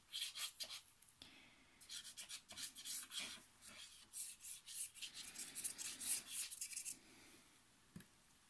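An envelope is rubbed firmly onto an album page to glue it in place, giving close, quiet, papery swishes in quick repeated strokes with brief gaps and no talk.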